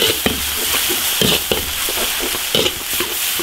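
Fish stir-frying in a wok with ginger, garlic and chili sauce gives a steady loud sizzle, with repeated scraping stir strokes roughly every half second.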